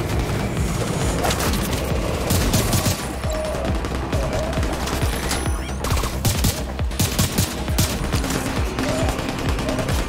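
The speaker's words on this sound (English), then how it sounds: "Shooting at me." Dense, continuous gunfire in The Division 2, rapid overlapping shots and bursts crackling nonstop at close range with occasional heavier booms.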